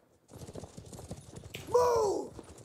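Horse hooves pound in a rapid galloping rhythm during a Mount and Blade battle, joined by a loud whinny near the end; close, with no talking.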